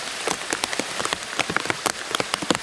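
Heavy rain falling on a homestead, drops pattering loudly and irregularly on a nearby surface in a dense, uneven stream of sharp taps, with no talking.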